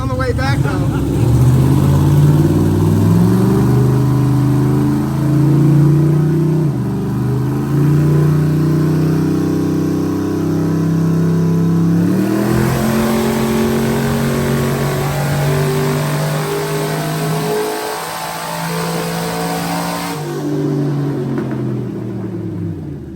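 A twin-turbo Mustang engine with its wastegate pinned runs hard on a dyno: loud, sustained roar with pitch sweeping up and down through repeated pulls while people talk over it.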